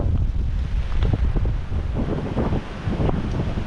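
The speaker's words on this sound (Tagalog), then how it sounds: "Kabara lahat dahil sa sobrang lakas ng hangin." Strong typhoon wind roars steadily and loudly against the microphone, buffeting in gusts amid storm damage to houses.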